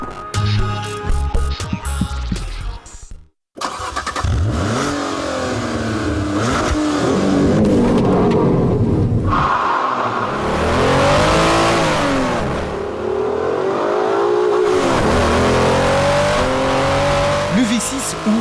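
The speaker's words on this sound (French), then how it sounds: "Le V6 ouvre jusqu'à 7000 tours minute et respire à pleine soupape." An Alfa Romeo 147 GTA's V6, which revs to 7000 rpm, climbs and falls through repeated loud, close revs and gear changes on the road, with a voice speaking over much of it after a brief cut near the start.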